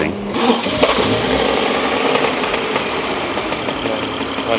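A rebuilt M3 car engine that is seizing roars loudly and continuously, its rough revving rumble filling the space up close.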